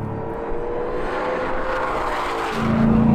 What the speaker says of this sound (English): You feel a lot of the exhaust sound coming through the cabin